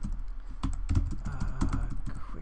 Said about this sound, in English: you're banging on the keyboard an awful lot